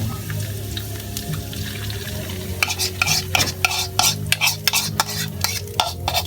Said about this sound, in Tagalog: Igisa lang natin siya